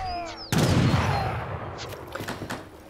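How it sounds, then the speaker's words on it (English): Gunfire from musket units in the strategy game Age of Empires III: a sudden loud volley crackles, then fades into scattered shots and faint pops over a couple of seconds. "Why are they individually shooting people? Split up your fire a bit"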